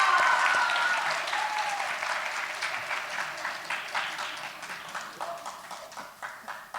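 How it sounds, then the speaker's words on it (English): Audience applause welcoming a lecturer to the stage at a lecture on warfare, a loud burst of many hands clapping at once that slowly thins and fades over several seconds, with no talking over it. "let's welcome him with a round of applause"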